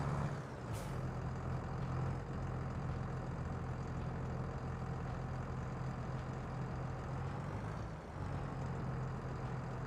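Tractor engine in Farming Simulator, a low steady rumbling drone that runs throughout at a fairly quiet level, broken by a brief sharp hiss near the start and a short dip near the end.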